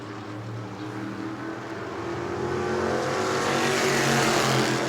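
602 modified race cars at New Smyrna roar past on the oval, engines droning and swelling louder as the pack nears, with no talking over them.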